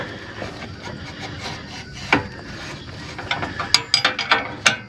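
A wrench turns a square nut outdoors on a farm, making ratcheting clicks that grow sharper and quicker toward the end. The metallic ticking sits close over a low rumble, with no talking.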